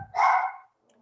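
A pet dog barks indoors after the doorbell rings, with one sharp, fairly close bark, a brief pause, then the start of another.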